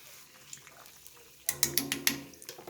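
Bisquick apple fritters frying in hot oil in a small pan, a faint bubbling at first, then a burst of louder crackling and popping spatters close by.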